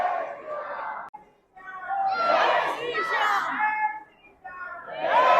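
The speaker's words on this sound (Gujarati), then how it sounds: "ભીડ દેખ રહે હો પ્રેમીઓ કી." A dense crowd of devotees near the Khatu Shyam temple, with many voices and shouts rising and falling in waves of loud, busy chatter.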